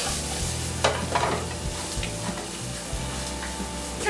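Broccoli and red onion sizzle loudly in a pan that gets shaken, with bursts of scraping and rattling over a continuous close hiss of hot oil and no voices.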